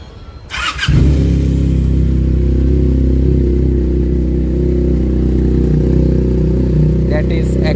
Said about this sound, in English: Benelli TNT 300 cold start video after very long time.